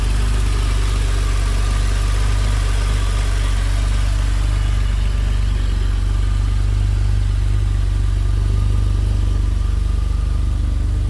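A 1993 BMW M5 engine idles in an open engine bay, a steady, close and even mechanical hum with a constant low drone throughout and no talking.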